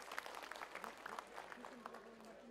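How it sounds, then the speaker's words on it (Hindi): An audience at a cultural programme of the International Gita Mahotsav applauds with fast, steady clapping throughout, and a voice is faintly heard beneath it. "एक बार जोरदार ताली बजाएंगे हम सब।"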